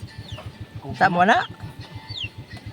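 A chicken lets out a short clucking call over a steady low rhythmic rumble, with faint bird chirps in the background.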